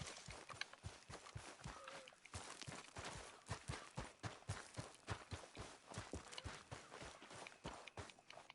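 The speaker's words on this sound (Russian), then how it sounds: "А, вон там моя лошадь, да?" Horse hooves clip-clop in Red Dead Redemption 2, an even stream of sharp close steps at a brisk walking rhythm, with no talking.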